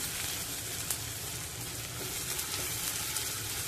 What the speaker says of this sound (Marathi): गॅस हाय फ्लेमवर ठेवून हे सर्व परतायचं आहे